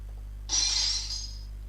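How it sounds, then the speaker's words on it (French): Glass breaking sound effect: after half a second of quiet hum comes a single bright shatter, a sharp crash followed by tinkling fragments that fade out over about a second, alone with no voices. "un effet assez rigolo à utiliser, qu'on va utiliser sur ce bruit de verre cassé"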